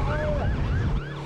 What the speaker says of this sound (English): Sirens blare at Reagan National Airport in Washington, but this is just a drill.